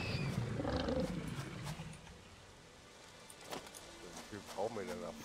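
Hog-like creatures in the video game Satisfactory growl and snort, a roaring grunt at the start and then scattered squeals and snuffles, with someone talking over them.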